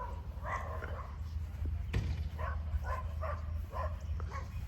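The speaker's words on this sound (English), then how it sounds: "the dogs doing their dog thing back there" Dogs bark in a back yard, several short yaps spaced through the moment, moderately distant and mixed with outdoor background noise.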